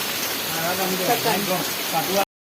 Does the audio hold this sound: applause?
no